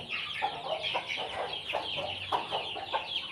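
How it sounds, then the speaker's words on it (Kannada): A country hen clucks over her small chicks, producing soft, repeated short clucks in an uneven rhythm, fairly close, with no voices. "ನೋಡಿ ಇದು ಚಿಕ್ಕ ಚಿಕ್ಕ ಪುಟಾಣಿ ಮರಿಗಳು ತಾಯಿಯ ತೆಕ್ಕೆಯೊಳಗಿದೆ"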